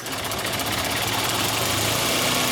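A car engine with a vacuum leak idles close by, a loud, steady rumble with a faint knocking vibration running throughout and no voices.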